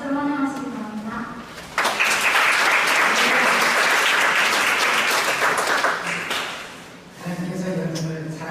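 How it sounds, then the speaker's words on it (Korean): A church congregation breaks into loud, sustained applause to welcome a pastor to the pulpit, the dense clapping running several seconds between stretches of a speaking voice before and after. "목사님 나오실 때 박수로 환영하시기 바랍니다"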